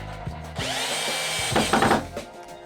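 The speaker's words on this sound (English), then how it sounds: "drive the little drywall screw right down into the center of that dowel" A power drill drives a small drywall screw through plywood into the center of a wooden dowel. One close, steady whir lasts about a second and a half, ends with a brief grinding bite, then stops.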